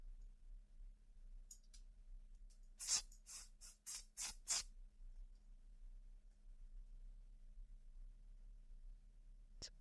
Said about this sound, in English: let's cut the lace